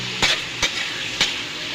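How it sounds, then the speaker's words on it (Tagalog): Tofu fries in hot cooking oil in a pan with a steady, close, crackling sizzle. A few sharp scrapes from stirring break through at intervals. "Prito ko po siya sa mantika"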